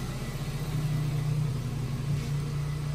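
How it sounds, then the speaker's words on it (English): A Chevrolet Impala with a history of breaking down, its engine running just after being cranked: a steady low idle hum with a brief rev near the middle, close and fairly loud, no talk. "I cranked the Impala just now."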